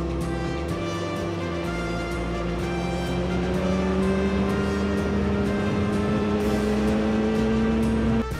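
A Kawasaki ZX-4RR motorcycle engine winds up steadily on a quiet mountain road, a loud, close, continuous high-pitched whine rising in pitch as it revs through the gear.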